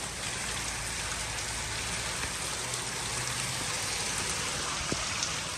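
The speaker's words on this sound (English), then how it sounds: "still raining." Steady rain falling outdoors on a rained-out race day, an even, continuous hiss of drops with no pauses and no voices.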